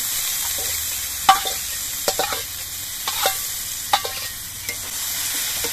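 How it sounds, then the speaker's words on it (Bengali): Fried potatoes are tossed into a spice masala in a pan, a steady sizzle punctuated by repeated spatula scrapes and clacks against the metal, close up with no voices. "এবার এর মধ্যে আমি ভেজে রাখা আলুগুলো দিয়ে দিচ্ছি"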